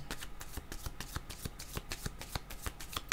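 Tarot cards being shuffled by hand close up, a rapid run of crisp riffling flicks and slaps at an uneven rhythm, with no talk over them.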